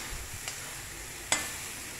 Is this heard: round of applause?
no